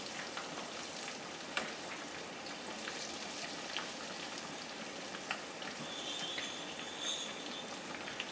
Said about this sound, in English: So I'm just gonna put a little more batter on this side, and then it'll fry back up again.